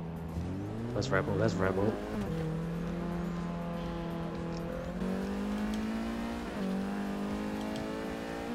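A Renault Clio Cup race car in the Forza 6 racing game on cold tyres, its engine droning with shifting pitch as tyres squeal briefly through a corner; a voice speaks briefly over it.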